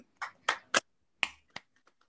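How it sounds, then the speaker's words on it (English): A few scattered hand claps from participants in an online conference, about seven sharp separate claps spread unevenly, then fading into faint, sparse ones, fairly quiet with no talking. "please unmute your mics and please give her a lively round of applause"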